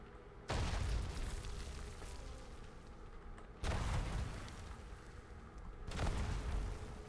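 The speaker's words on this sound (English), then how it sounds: "The X-52 will provide adequate protection from the explosions." Three deep booming mine explosions in a video game, each followed by a long rumbling roar that fades slowly, spaced a few seconds apart.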